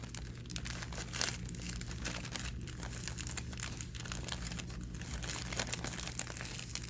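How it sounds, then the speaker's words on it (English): A plastic Ziploc bag being pressed and worked closed while making a homemade squishy, giving steady close crinkling and crackling plastic sounds throughout with no talking. "I don't know why this Ziploc bag is so hard to close."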